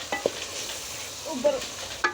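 Spinach and potatoes fry in a pan for aloo palak as a spoon stirs them, giving soft scraping strokes over a low, steady sizzle, close up and with no talking.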